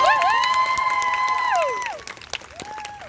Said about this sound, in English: So a round of applause to Ohio Rin for pulling this off.